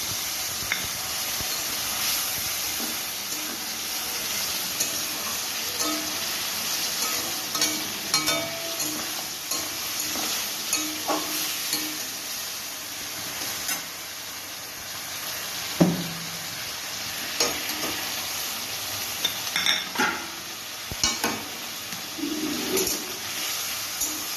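Ginger, garlic and cumin pastes with chilli and turmeric powders frying in oil make a steady sizzling hiss, with occasional soft stirring scrapes and knocks close by.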